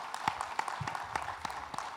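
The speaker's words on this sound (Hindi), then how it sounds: "ताली बजा दीजिए अंशिता के लिए।" Audience applause for Harshita at an education awards event, a short burst of scattered hand claps that rises and fades around a crowded hall.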